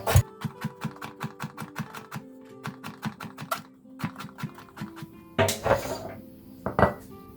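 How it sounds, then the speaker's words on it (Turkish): A knife chops a carrot into small pieces on a cutting board, a quick run of sharp taps that pauses, then resumes with a few louder clatters. "Şöyle havucumuzu küçük küçük doğruyoruz."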